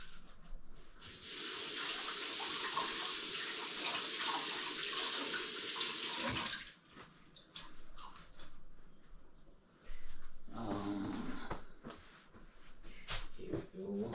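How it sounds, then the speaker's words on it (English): Hands are washed under a running tap, a steady close hiss of water pouring into a sink for several seconds, then stopping and briefly splashing again with faint voices in the background. "Wash my hands."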